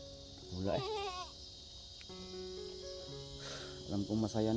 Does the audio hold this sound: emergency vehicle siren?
no